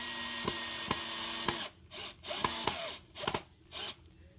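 An 18-volt Bosch cordless drill drives screws into 2x4s for a DIY rifle target stand: a steady high motor whine with a rhythmic clicking, then several short separate bursts of drilling.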